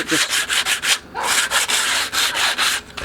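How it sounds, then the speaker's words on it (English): Rough timber edges of a wooden gate being sanded by hand with sandpaper, giving a steady run of close, rhythmic scratchy rubbing strokes with brief pauses between passes and no talking. "Now I'm just going to get a little bit of sandpaper and just sand those rough bits of timber edges."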